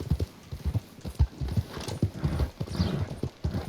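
Steady clip-clop of horse hooves at a walking pace in Red Dead Redemption 2, close and fairly loud, with a brief whinny-like sound in the middle.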